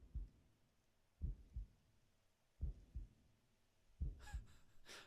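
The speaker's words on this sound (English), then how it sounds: "I can hear a heartbeat in my ears" A heartbeat in the horror video game Paranormasight thumps in soft doubled beats, four lub-dub pairs at a slow, even pace, with a brief breathy rustle near the end.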